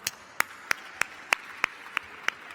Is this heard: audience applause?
yes